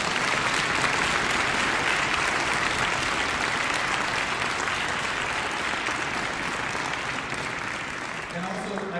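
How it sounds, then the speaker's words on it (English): Sustained concert-hall applause for a student Sinfonia orchestra: dense, continuous clapping from a large audience that holds steady and tapers slightly near the end, with a voice emerging faintly at the close. "How about one more foot shuffle and big round of applause for the Sinfonia?"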